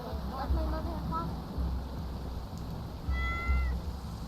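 A cat meows in the Skyrim video game, a few short calls near the start and again toward the end over a steady windy background hum.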